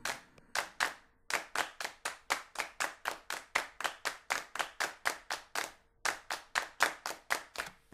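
Clapping Music in its original version: rhythmic handclaps in a steady, dense pulse of sharp, evenly spaced claps with brief gaps, close and loud, with no voices.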